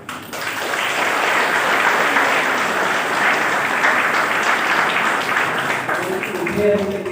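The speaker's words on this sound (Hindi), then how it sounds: "आप लोग ताली बजाएं।" Sustained applause from an audience at a debate, a dense steady wash of clapping for several seconds, with a voice emerging near the end.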